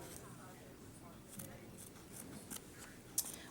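Scissors snip around stitching on embroidery stabilizer in a hoop, a few faint scattered cuts under soft nearby speech.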